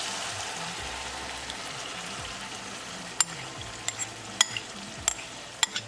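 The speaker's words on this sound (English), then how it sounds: "Now I'll add the coconut milk." Coconut milk being added to a sizzling pan of mahi mahi fish curry over medium heat, a steady frying hiss with a few sharp clinks of a spoon against the pan toward the end.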